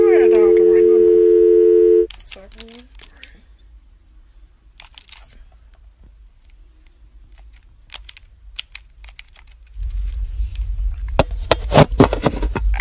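A telephone line tone drones steadily for about two seconds, then cuts off, followed by scattered clicks and key taps of dialing and rising handset noise.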